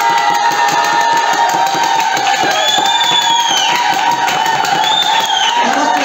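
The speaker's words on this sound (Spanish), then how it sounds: "Fuerte los aplausos para Charlotte de Mónaco." An audience at a drag queen casting show cheers a contestant, with a loud, steady roar of crowd shouts and high rising whoops carrying through.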